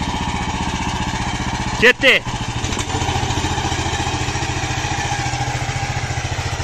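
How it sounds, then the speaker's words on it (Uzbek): An MTZ-82 tractor engine pulls a cultivator, its steady, close diesel throb running throughout, briefly overlapped by a short spoken word. "Ko'rib turibsizlar, mana traktorni faqatgina oldida boshqarib ketsa bo'ldi."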